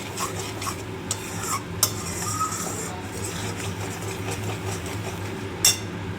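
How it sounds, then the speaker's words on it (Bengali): A spoon stirs turmeric into garlic paste in a pan, soft scraping over a low sizzle, with a few sharper clinks of metal on metal. "এবার একটু দিয়ে নেব হলুদ, হলুদটা দিয়ে একটু নাড়িয়ে নেব।"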